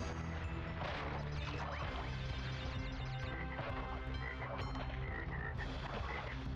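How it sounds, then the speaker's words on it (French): Frogs croak repeatedly in Crash Bandicoot 3, their rhythmic calls layered over loud, continuous game music and effects, with no talking. "les grenouilles, tu sais jamais dans quel sens elles sautent"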